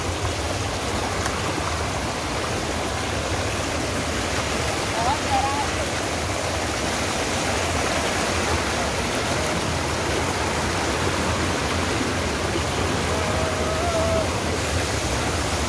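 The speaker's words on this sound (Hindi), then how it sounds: "बहुत मेहनत हो रही ये झरना देखने के लिए" Waterfall at Kotabagh near Nainital, a steady, dense rush of falling water that fills the whole clip at an even level, with no breaks and no clear voices on top.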